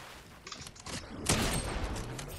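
Gunfire in a console shooter tournament crackles in a short flurry of sharp, fairly faint shots, a burst in the middle louder than the scattered pops around it, with no speech.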